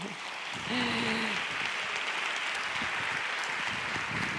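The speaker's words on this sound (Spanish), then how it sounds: "para recibirte con un aplauso" Steady applause from an audience fills the room, a dense patter of clapping that holds evenly throughout, with a brief voice rising over it near the start.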